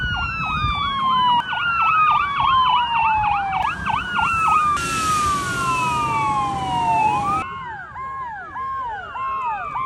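Loud wailing ambulance siren cycling through rapid yelp and slower wail patterns, close and continuous, shifting pitch as it passes amid traffic noise.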